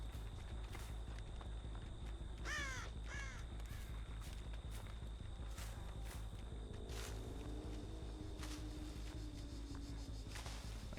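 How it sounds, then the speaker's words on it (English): Crow caws ring out from a horror survival video game, several short harsh calls in quick succession over a steady background of game ambience, hoofbeat-like clip-clop and footsteps. "I saw a bird."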